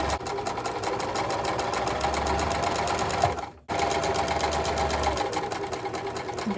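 A sewing machine stitching the neck strap of a reversible apron, running in a fast, even mechanical whir close by, pausing for a moment before starting up again at the same steady pace.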